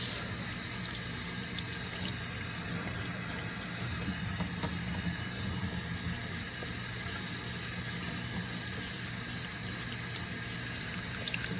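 Tap water running steadily into a kitchen sink as oyster mushrooms are rinsed under the faucet, a constant close hiss and splash with no talking.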